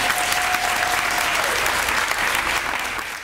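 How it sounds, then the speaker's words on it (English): Sustained audience applause at a school event, a dense, steady wash of many hands clapping at close range that holds strong throughout and eases slightly at the very end, with a faint thin tone early on. "Let's give a round of a rah-rah applause"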